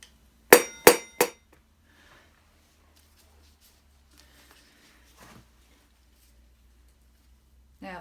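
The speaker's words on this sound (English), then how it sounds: "we keep tapping it from opposite sides, round and round, to make sure that we don't cause any, we want it to come out fairly flat" A hammer tapping out a motorbike front wheel bearing: three sharp metallic strikes close together, then near silence with a faint knock or two later.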